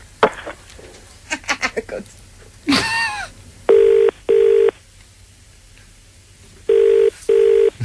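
A telephone line puts a call through: brief tones and clicks come first, then two pairs of loud electronic ring bursts with pauses between them, heard close and clear.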